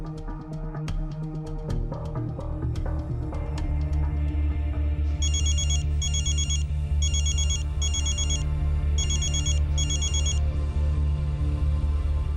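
A mobile phone ringtone sounds in repeated short bursts of bright, high beeping over a steady music background, starting partway in and recurring at regular intervals.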